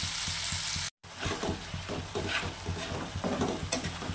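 Spice paste for an amudi fish curry with onion and garlic sautéed with water in a pan, a soft steady sizzle with gentle stirring scrapes and patter, one brief cut in the middle.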